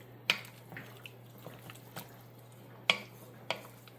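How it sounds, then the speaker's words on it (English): A pot of food is stirred: a handful of sharp scrapes and knocks of a utensil against the pot, with soft wet squishes between them, heard close and fairly quiet over a low steady hum. "Let me stir this around and see where we are consistency wise"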